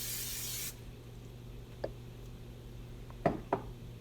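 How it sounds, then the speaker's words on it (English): A short burst of Pam nonstick cooking spray hisses up close for under a second, followed by a few faint clicks and taps in a quiet room. "So you want to coat that with a nonstick cooking spray."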